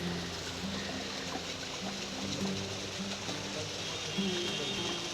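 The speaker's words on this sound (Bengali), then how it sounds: "দেখো ওই পাশের এখান দিয়েও ঝর্ণার জল পড়ছে।" Waterfall water pouring down beside a river in Dawki, Meghalaya, a steady broad rushing wash heard from a short distance with a low hum underneath.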